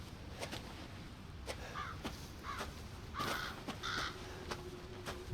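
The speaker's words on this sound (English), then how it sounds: "There's some crows or something up ahead." Several crows caw in the Resident Evil 7 video game, heard as a handful of harsh calls spread over a few seconds against a faint ambient background with soft footsteps and no talk.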